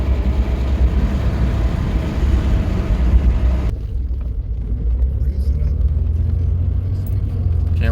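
A 1997 Ford Explorer with a SOHC V6 and a transfer case fault is driven without shifting gear. It gives a loud, steady engine and road rumble from inside the cabin, and the upper hiss drops away partway through.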